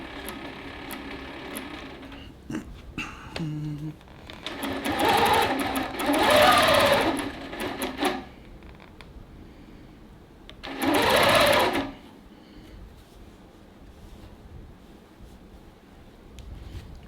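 A long-arm sewing machine stitches fabric for a tote, running in loud whirring bursts of about four seconds and one second, with quieter handling noises and pauses between runs.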